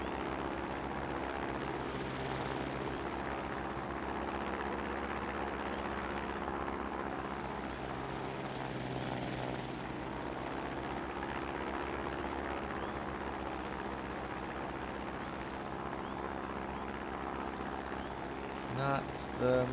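A propeller plane flying in the video game Trailmakers, a steady droning engine hum that holds evenly for about twenty seconds, with a couple of brief clicks near the end.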